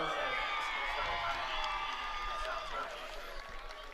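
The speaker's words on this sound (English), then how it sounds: "And the Ridgefield crowd that has traveled here to Darien, letting DeAlexander know their support" Ridgefield crowd cheering at a high school varsity boys lacrosse game in Darien after a goal, a steady broad roar of voices with whoops that fades slightly toward the end, talk audible underneath.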